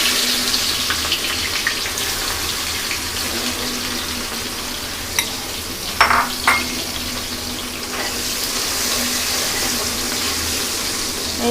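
Chopped onion and bay leaves frying in a pan for a white chicken curry, giving a steady, fairly loud hiss that runs unbroken, with a few brief clinks and stirring knocks near the middle.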